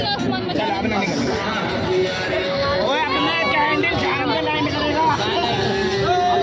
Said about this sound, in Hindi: बहुत ज़्यादा भीड़ हो रही है।